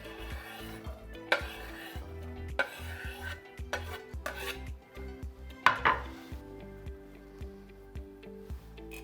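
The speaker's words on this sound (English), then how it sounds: "Let's put our peppers in." Bell peppers clatter into a hot pan with olive oil on a burner turned to high, with scattered metallic clanks, stirring scrapes and faint sizzling, close and moderately loud, with no talk.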